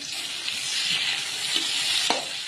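Onion added to a pan of fried potatoes sizzles and crackles steadily, a continuous loud frying hiss with one sharper pop near the end.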